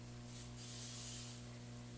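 Two short bursts of oil spray hissing onto layers of phyllo dough for a casserole, close and fairly soft, with a low steady hum underneath.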